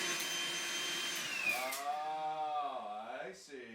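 A Makita blower run as a vacuum gives a loud, steady motor whine whose pitch slides down and wavers as the attachment collapses, then recovers toward the end.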